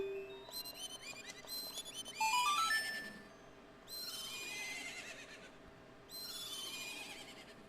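Repeated whinnying neighs of a horse from the video game The Legend of Zelda: Majora's Mask, three loud descending calls in a row with brief gaps, no talking.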